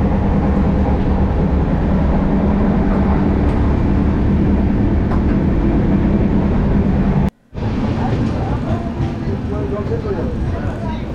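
A train pulling into Ambika Kalna station, heard as a loud, continuous rumble that cuts out briefly near the end before resuming, with voices talking over it.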